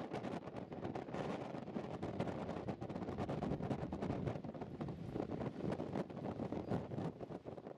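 Constant wind buffets the microphone at the top of the Millennium Tower, a steady dense roar with gusty rumbling throughout, no voices.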